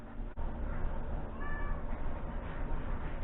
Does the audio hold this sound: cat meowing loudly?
yes